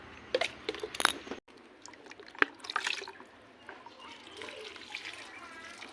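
Water splashing and trickling onto potted flower plants outdoors in the afternoon, a few uneven pours and spatters close by with soft background noise, no voices.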